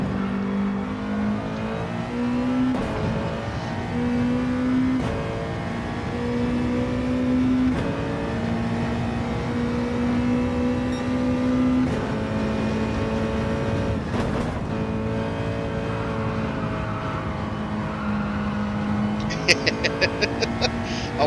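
A Nissan GT2 GTR race car engine in Gran Turismo 7 drones steadily throughout, holding a sustained pitch with slight rises and dips, while people talk over it.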